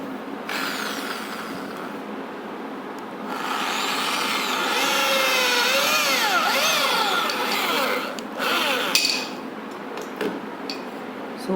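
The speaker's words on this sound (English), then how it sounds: "I am drilling here." A power drill bores holes into a black soldier fly cage, its motor whining loudly and shifting pitch as the bit bites in, then spinning down, close and continuous.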